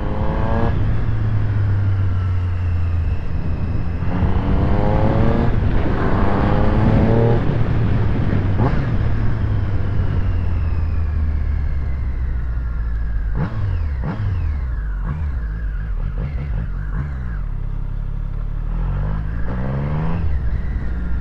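A Triumph Street Triple 765 motorcycle engine revs repeatedly, rising and falling in sharp throttle blips over a steady idle, loud and close with no talking.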